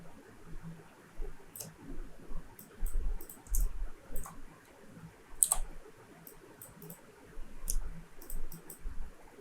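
A computer mouse clicks during editing in Adobe Illustrator: sharp, crisp single clicks come at irregular intervals over a low, quiet room hum, with no speech.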